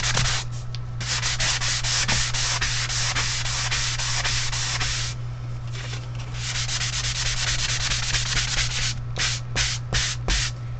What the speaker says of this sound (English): We are going to sand those